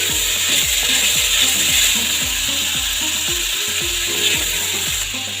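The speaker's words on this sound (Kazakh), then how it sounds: "Жақсылап араластырып қуырып" Oil frying in a pot while the contents are stirred for potato soup, with a steady sizzle under repeated scraping, clicking stirs.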